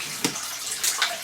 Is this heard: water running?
yes